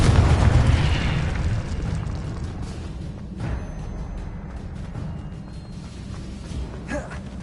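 A Confringo spell explosion in Hogwarts Legacy: a loud booming blast at the start that fades into a long rumbling tail, with a smaller crack and a pop later on.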